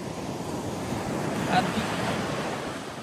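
Ocean surf at Odalarevu beach, a continuous broad wash of waves with wind buffeting the microphone and a faint voice in the background.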